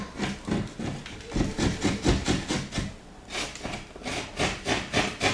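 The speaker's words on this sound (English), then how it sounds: "Trim off the back side edge of the sheetrock just so it kind of helps get this box in there" A utility knife trims the back edge of sheetrock for a new light switch box in steady, rhythmic rasping strokes, close and fairly loud, with a short pause midway.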